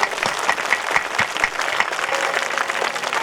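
An audience claps at a Ram Katha religious gathering, a loud, dense wash of many hands with a few rhythmic accents, steady throughout the short burst.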